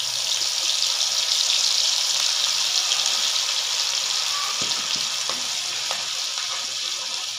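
Ground masala paste for a Marathwada-style brinjal curry fries in oil with a steady, loud, dense sizzle that holds evenly throughout, with a few faint scrapes of stirring near the end.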